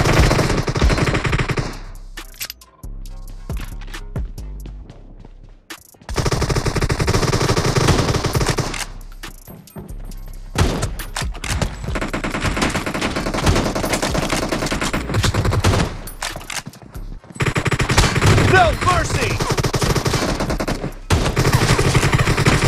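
Gunfire from a Win94 rifle and other weapons in a video game team deathmatch, loud bursts of rapid automatic fire and single shots broken by short quiet gaps, no voices.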